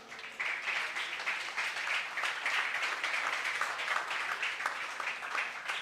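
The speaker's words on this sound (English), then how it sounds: "Ladies and gentlemen, a big round of applause." Round of applause from the audience at an education conclave, a fairly faint but steady patter of many hands clapping that continues evenly for several seconds.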